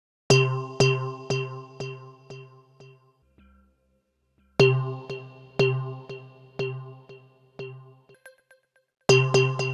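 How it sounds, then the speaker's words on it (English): Reason 13 Ripley delay effect with its multiply switch doubling or halving the delay speed, bright struck tones repeating in decaying echoes, two bursts separated by a near-silent gap, clean and close. "It allows you to 2x or half the speed of the delay effect."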